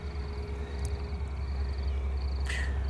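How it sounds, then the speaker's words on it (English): Jackals at Rietvlei Nature Reserve scream in faint, distant bursts of high, wavering yelps repeating across a quiet open backdrop, with one brief sharper cry near the end and no talking. "With the jackals screaming in the background."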